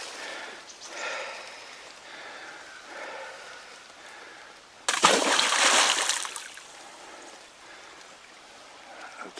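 Rock thrown into a river landing with a loud, close splash, followed by a burst of churning water that fades back into the steady flow of the stream.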